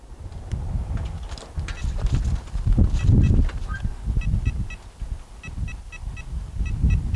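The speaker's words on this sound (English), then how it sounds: "press button number 5 and hold until you hear 5 beeps from the remote" A canine system remote gives a series of short, evenly spaced electronic beeps, about five, thin and faint, over louder rustling and handling noise near the device.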